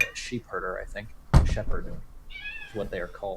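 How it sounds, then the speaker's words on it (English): A pet cat meows a few times, high and fairly close, amid a heavy door thunk, while people talk over it throughout. "That's my cat."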